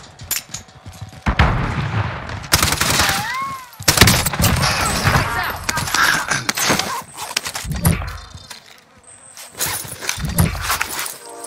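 Call of Duty: Warzone gunfire, with dense, loud shots and bursts filling most of the stretch, broken by brief lulls, plus occasional in-game voice calls.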